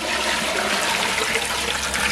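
Water pours steadily into a cooking pot on a stove to boil lentils for sambar, a continuous close, fairly loud rushing splash with no talking.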